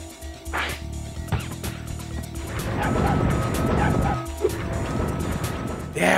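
A dog barks in Spyro: Year of the Dragon, a few sharp yips early on, then a loud rushing game noise builds and carries on to the end.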